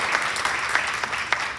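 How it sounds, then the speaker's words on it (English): An audience at a Ward 3 candidates debate gives brief applause, a short burst of scattered clapping from a modest crowd. "Please give him a round of applause"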